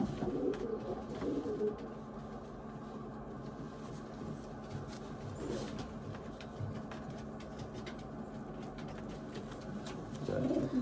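Racing pigeons in a loft give low, repeated cooing throughout, steady and fairly close over a constant background hum, with a few louder coos near the start and end.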